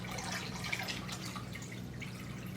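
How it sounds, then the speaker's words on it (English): Salty water from a 20-gallon brackish aquarium being poured out, a steady, close trickling and splashing stream that runs without a break for the whole stretch, with no talk. "we're going to pour about half of it out"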